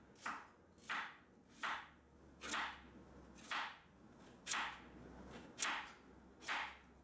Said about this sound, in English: We're going to cut these beets up as well.